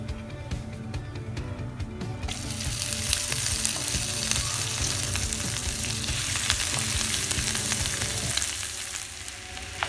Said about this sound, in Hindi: अब हम इसमें बॉईल करके मैश किए हुए आलू डाल देंगे।